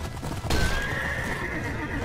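A horse whinnies loudly and close by in the medieval combat game Mount and Blade Warband, a sharp neigh rising over a bed of hoof clatter and battle noise, with no speech.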